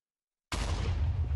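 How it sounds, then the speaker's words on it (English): Explosion set off by a capsule placed on a block in Minecraft: silence, then a sudden loud blast that holds as a dense, rumbling roar for nearly a second, heavy in the low end, with no talk. "an explosion happens"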